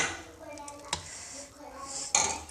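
Cooked halwa scraped from a pan onto a ghee-greased plate, giving a few soft scrapes and two sharp metallic clinks of spoon against the pan, heard close and with no one talking.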